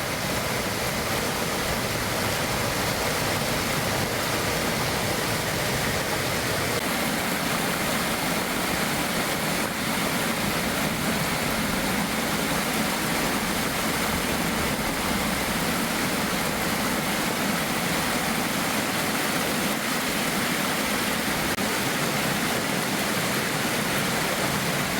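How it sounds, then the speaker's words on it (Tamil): Heavy rainwater pours down the 365 steps of a hill temple at Thiruttani like a waterfall, a steady dense roaring rush that stays constant throughout with no voices. "திருத்தணியில் பெய்த கனமழையால் மலை கோயிலில் 365 படிக்கட்டுகளில் அருவி போல மழை நீர் பெருக்கெடுத்து கொட்டியது."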